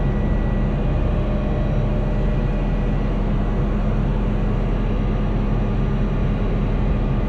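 An H500C helicopter in Flight Simulator 2024, flying from Ushuaia toward the Cerro Castor ski resort, gives a steady, loud engine and rotor drone that holds constant throughout with no talking.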